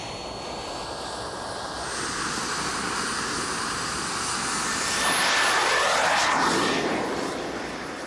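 A homemade jet engine heated by a camping stove runs with a steady, loud roaring whoosh that swells toward the middle and fades slightly at the end, alone without voices.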